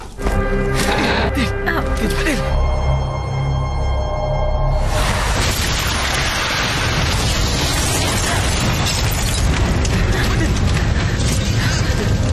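A loud, sustained roaring blast with crackling, rumbling debris noise that fills the whole stretch, like a vehicle blowing up nearby.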